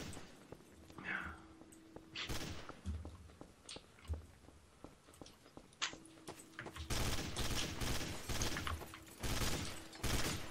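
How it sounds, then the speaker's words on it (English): Gunfire crackles in the video game Trouble In Terrorist Town, scattered single shots at first and then denser bursts and volleys, with footsteps mixed in, fairly quiet overall. "I hear that shooting."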